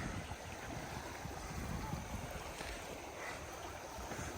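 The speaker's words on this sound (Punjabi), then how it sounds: "ਜਦੋਂ ਪਾਣੀ ਹਨਾ ਗੀੜਾ ਜਿਹਾ ਦਿੰਦਾ ਇਹਦਾ ਮਧਾਣੀ ਵਾਂਗੂ" Floodwater swirls and churns against a damaged earthen embankment at Burj Tehal Das, a steady, close rushing roar of turbulent water with wind noise and no voices.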